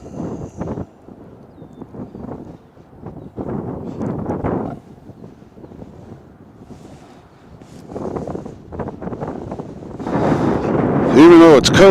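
Cold, breezy wind buffets the microphone outdoors at an airport, rumbling in gusts that swell louder toward the end, with a person speaking at times.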